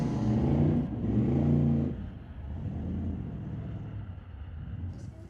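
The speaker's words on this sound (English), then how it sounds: "Jen just spinning that tire like crazy, not able to get the traction" A street-legal drag racing car spins its tire at the line: a loud engine roar with a strong rising pitch for about two seconds, then a rough, broad rumble that fades slightly as the car moves off.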